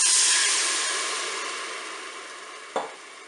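A glass of white wine poured into onions browning in a Cookeo multicooker pot sends up a loud, bright sizzle that slowly fades, with one short clunk near the end.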